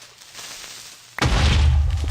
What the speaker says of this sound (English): so their explosions aren't too bad, the little guys